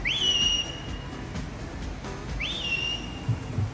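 Man whistling to summon parrots: two bright rising-then-held whistle calls spaced a couple of seconds apart, clear and fairly close over a quiet background.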